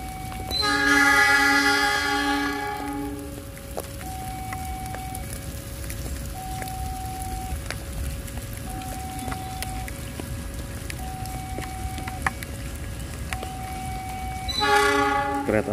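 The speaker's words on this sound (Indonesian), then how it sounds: "Double panoramik saat ini sudah masuk stasiun Rancakek" Double panoramic passenger train pulling into Rancaekek station near Bandung in the rain, steady rolling rumble and clatter of cars with a loud horn blast at the start and another near the end.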